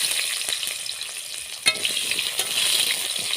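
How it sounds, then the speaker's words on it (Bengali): Cut potatoes fry in oil left over from frying fish, a loud continuous sizzle up close, broken by a sharp metallic clink of the stirring spoon and light scraping. "নাড়াচাড়া করে হালকা লাল করে আলুগুলো ভেজে নেব।"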